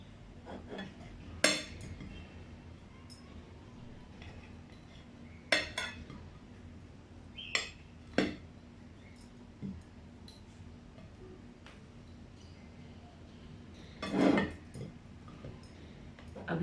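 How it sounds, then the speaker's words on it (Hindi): Knife edge trimming the crusts off a pressed bread sandwich filled with potato, heard as a few sparse, sharp clicks and scrapes against a plate or board in a quiet kitchen. "अब इसके किनारे कट कर लेंगे।"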